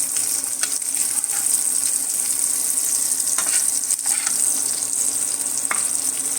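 Chicken chops frying in a pan with only a little oil, just turned over, give off a steady, close, loud sizzle with bright crackles and occasional spatters throughout.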